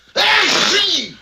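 A cartoon character gives one loud, exaggerated sneeze lasting about a second, a voiced wind-up sliding into a broad hissing burst that fades out at the end.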